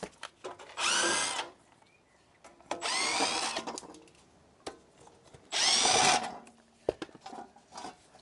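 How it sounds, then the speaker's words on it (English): An impact gun zips wheel nuts off an Alfa Romeo Giulietta in three loud, near bursts of about a second each, with quiet clinks and handling between them. "Blast these off with the gun."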